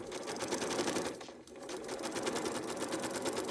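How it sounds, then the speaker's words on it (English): A domestic sewing machine stitches straight along the line of a foundation paper pieced quilt block, a steady fast rapid-fire chatter that runs close and continuous with only a brief dip partway through. "There's no reason to backstitch, just sew on the line."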